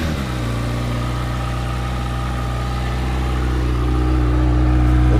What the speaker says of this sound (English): I'll go ahead and do a cold start here.